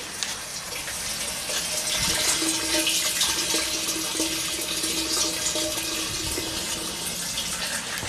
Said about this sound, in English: So we'll drain it, put in some fresh gas